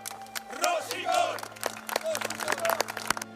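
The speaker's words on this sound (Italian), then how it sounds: "Applausi" A crowd gathered at a statue of footballer Paolo Rossi claps and cheers, with scattered shouts and chanting voices rising over dense, uneven hand claps.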